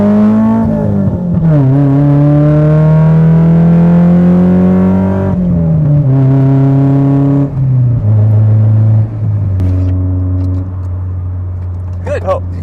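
Nissan S14 with a four-cylinder engine pulling away on a test drive, its engine note rising and falling through gear changes, steady and close, with people talking over it.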